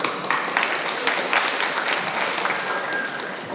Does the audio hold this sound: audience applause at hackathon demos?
yes